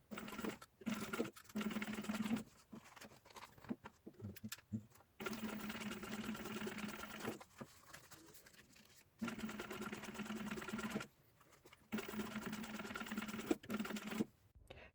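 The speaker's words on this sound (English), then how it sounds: "we are gonna do the same top stitching as we did on this side" A sewing machine top-stitches a vinyl and fabric zipper pouch in several quiet, steady runs of rapid needle clatter, each a few seconds long, separated by short silent pauses.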